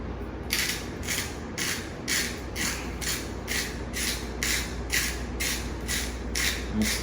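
Fresh salt being ground in a hand salt grinder, a steady run of about ten short, evenly spaced gritty crunches, close and moderately quiet over low background hum.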